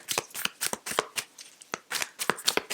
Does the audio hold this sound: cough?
no